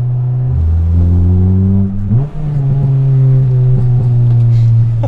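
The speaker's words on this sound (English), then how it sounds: "Couple of pops from the exhaust there." Honda Integra Type R DC2 with a full titanium exhaust revving loudly and close by, the engine note rising and holding with a short dip and a few crackling exhaust pops in between.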